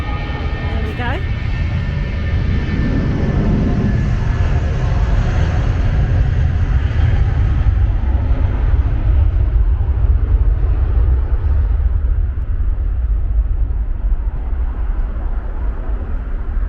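A plane flying near Heathrow, seen from the Renaissance Heathrow hotel, passes with a loud, sustained roar that holds steady and then slowly thins out as it moves away.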